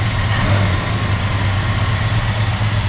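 A 1967 Plymouth Belvedere II engine idles steadily with a low, even rumble, close and continuous for a few seconds without voices.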